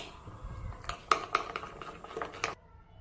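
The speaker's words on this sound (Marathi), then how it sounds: "आता हे पीठ भिजवून घ्यायचं आहे आपल्याला आणि हे चांगलं 2 ते 3 मिनिटं चांगलं फेटून घ्यायचं आहे" Bread and paneer pakora batter beaten in a bowl, giving a run of quick clinks and scrapes of a spoon against the bowl, close and moderately loud, ending abruptly, with no speech.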